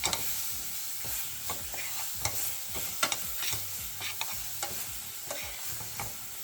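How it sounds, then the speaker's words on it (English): A whole stick of salted butter sizzles and crackles steadily in a hot pan, with irregular pops and spatters over a continuous frying hiss, close and fairly loud, with no talking. "you're going to drop in a whole stick of butter"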